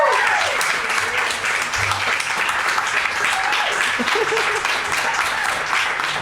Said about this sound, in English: Please, will you give her a round of applause?